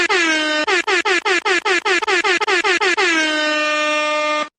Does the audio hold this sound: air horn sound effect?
yes